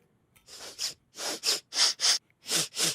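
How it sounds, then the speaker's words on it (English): A series of short, breathy sniffs in uneven bursts, close and fairly loud, with brief pauses between them and no talking. "Kind of a sniffing sound."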